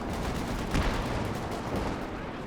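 Zeroing artillery fire in Company of Heroes 2 comes through as distant shelling and gunfire, heard as a dense, rumbling barrage with a couple of heavier thumps.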